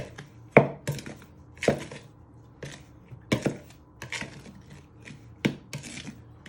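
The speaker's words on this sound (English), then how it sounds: "you want to give it a good stir with your knife" Knife blade stirring sweet shortcrust pastry mixture in a mixing bowl, giving repeated rasping, scraping strokes in an irregular rhythm, close and fairly quiet, with no talking.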